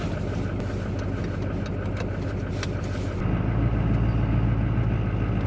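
A heavy diesel engine in a manual Duramax LB7 pickup truck rumbles steadily, then deepens and grows slightly louder as the truck pulls away, droning low and close throughout.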